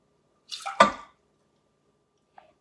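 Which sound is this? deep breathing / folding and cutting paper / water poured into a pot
water poured into a pot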